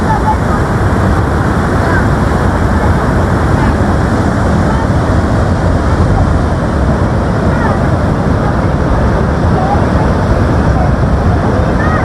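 Water rushes out of a mountain dam spillway near Meidan Banda Kalam, a steady, loud, broadband roar of turbulent flow that holds constant throughout with no breaks.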